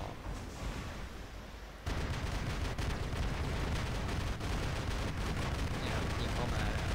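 A heavy weapon fires a sustained, loud barrage in the War Robots game, rapid rumbling shots running continuously after a sudden onset near two seconds.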